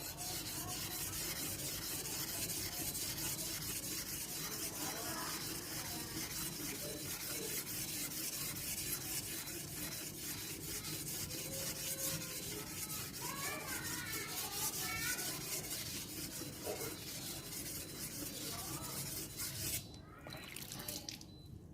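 A machete blade scraped back and forth on a Payakumbuh whetstone in a steady, close grinding rasp that runs throughout, with faint wet dripping, before it cuts off near the end.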